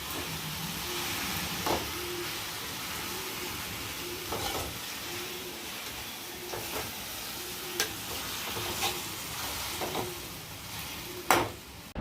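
Gongura leaves and green chillies cook in oil with a steady, close sizzle and hiss, broken by occasional soft clinks of stirring.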